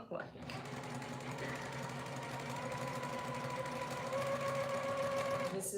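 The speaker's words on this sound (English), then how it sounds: "Honestly, the important thing is that I'm sewing right now." Sewing machine stitching the front bib of a pair of overalls, a steady close mechanical whir and rapid needle chatter running throughout, with a voice talking over it.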